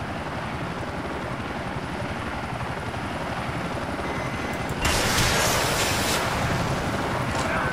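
A helicopter in the video game GTA IV beats with a steady rapid rotor chop against a wash of wind-like noise, close and continuous, jumping to a louder hissing roar partway through.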